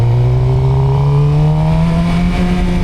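A Suzuki GSX-R 600 motorcycle engine hums loud and close, its pitch climbing steadily in a smooth throttle blip without any voices.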